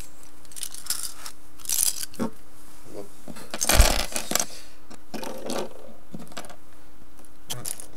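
Plastic LEGO pieces from a Legends of Chima set being taken out and handled, scattered clicks and rattles with a louder clatter midway, close and fairly quiet.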